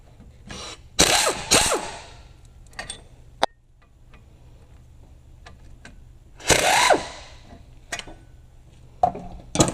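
A ratchet works 18 mm brake caliper pin bolts free on a 2006 Duramax 2500HD, giving a few separate bursts of close, quick clicking with squeaky turning sounds between quieter handling noises.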